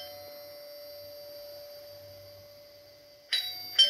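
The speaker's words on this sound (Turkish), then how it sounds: "Baksana gençler bu zil. Susmuyor. Bak basıyorum." A battery-powered wired door chime, ringing after its button is pressed: a faint steady tone, then two sharp, brighter chime strikes near the end, close by.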